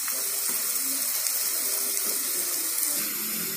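Tap water pours steadily into a basin, a close, continuous splashing gush that holds an even level throughout.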